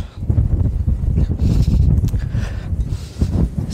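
Steady roaring wind buffets the microphone in a snowy park in Sapporo, a loud continuous rush with gusty swells and rumbling low-end noise throughout.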